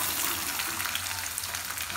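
Sliced onions sizzle in hot oil with tempering seeds for a drumstick curry, a steady close crackling fry without talk.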